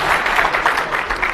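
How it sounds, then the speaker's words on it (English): Audience applause at a lecture on ribbon and paperclip tricks, a steady dense patter of clapping filling the whole short stretch at moderate loudness with no talking. "We should applaud people who have guessed that."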